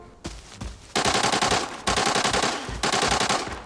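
Rapid automatic gunfire in the game Arena Breakout bursts out in long, loud volleys separated by brief pauses, with a few single shots at the start.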